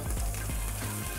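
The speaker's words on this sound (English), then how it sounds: "we're going to throw our mirepoix right into the Versatile Chef Station" Mirepoix of carrots and celery sizzles on a Vulcan Versatile Chef Station griddle, a loud steady frying hiss with crackle and no talk.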